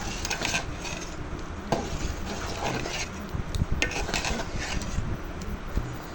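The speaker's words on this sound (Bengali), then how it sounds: "অবশ্যই নাড়াচাড়ার মধ্যে রাখতে হবে যাতে ডেগের তলিতে না লেগে যায়" Phirni rice pudding with nuts being stirred in a cooking pot, a steady scraping and rubbing of a spoon against the pot bottom with occasional light clinks, moderately close.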